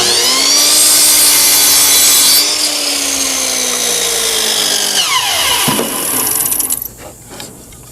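A miter saw slices through a wood board, whining loudly with a steady motor tone that dips as the blade bites, then spins down and ends with a few light clatters.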